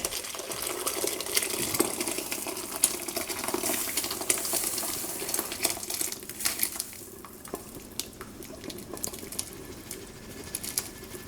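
Rustic meatless Italian soup is poured gently into a bowl, giving a steady soft splashing, trickling sound that tapers off toward the end, with no voices.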